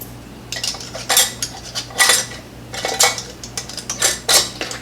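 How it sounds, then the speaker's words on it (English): Metal canning lids and screw bands clink and rattle onto glass jars of enchilada sauce in a series of sharp, close metallic clatters spaced about a second apart. "then you want to place your lids, and then you're going to add your bands to fingertip tight"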